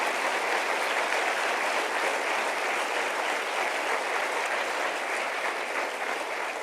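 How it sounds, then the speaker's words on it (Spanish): A church congregation applauds in sustained, dense clapping that holds steady throughout, filling the space evenly with no voices standing out. "Denle un aplauso al Señor"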